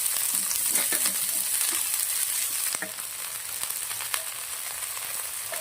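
Cabbage fries in oil with onion and green chili, producing a steady close sizzle that eases slightly partway through, with faint scraping from stirring.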